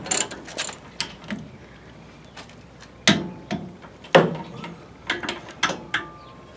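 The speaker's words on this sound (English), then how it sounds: "we're going to come back with a torque wrench and torque it down to between 45 and 60 foot-pounds" Torque wrench clicking and ratcheting as bolts on a brake caliper are tightened down during a 1967 front disc brake conversion; sharp, close mechanical clicks arrive in irregular bursts with short pauses between them, with no talking.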